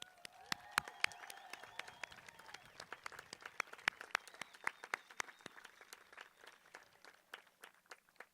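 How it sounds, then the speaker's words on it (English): A graduation crowd at Incline High School claps in steady applause, dense overlapping hand claps that gradually thin toward the end. "Go ahead, give them a round of applause."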